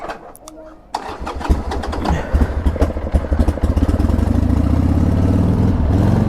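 A motorcycle engine cranks and fires up close by, then settles into a steady, loud, throbbing idle, with people talking over the start.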